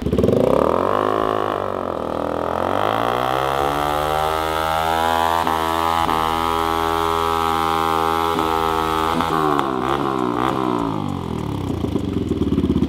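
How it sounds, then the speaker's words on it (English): A Subaru STI engine revs hard during a burnout, a loud, close, sustained roar that climbs in pitch and holds near full throttle before dropping back, with rough tire-spin clatter underneath. "That was a better burnout than you did."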